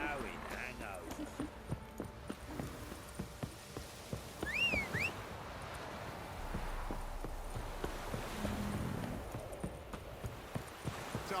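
Horse hooves clip-clopping in The Witcher 3: Wild Hunt, a quiet, steady run of hoof beats that continues throughout, with a brief high whistle-like sound partway through and low voices talking.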